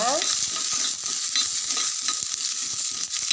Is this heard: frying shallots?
yes